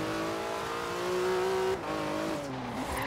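A Porsche engine in Forza Horizon 3 drones steadily and climbs in pitch, then drops as the revs shift and builds again, loud and close with no talking.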